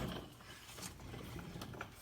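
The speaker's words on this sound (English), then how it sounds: "You can do this again with a ratchet, not a big deal." A ratchet works on oil pan bolts underneath a 1996 Buick with the 3800 engine, giving a continuous gritty clicking rasp, close and fairly loud, with no talk.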